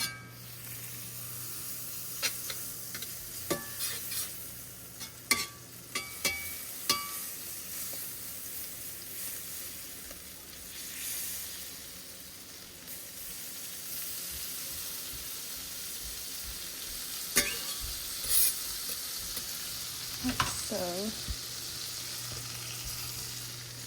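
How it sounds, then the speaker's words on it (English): Bagels fry in melted butter in a skillet, giving a steady sizzle throughout, broken by occasional scrapes, clicks and shifting of the pan, with no talking. "I just fry the bagels up in some butter"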